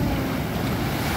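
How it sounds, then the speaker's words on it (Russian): A strong ocean wave breaks on the beach at Mount Lavinia, Sri Lanka, as a loud, broad roar of surf with heavy wind buffeting the microphone. "А, сильная волна."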